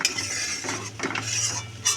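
Spices being stirred together in a pan for chicken chaap, with scraping and clinking of a spoon against metal over a low steady hum, close and moderately loud, with no talk.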